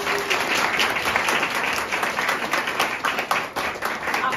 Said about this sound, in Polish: Witamy, wielkie brawa.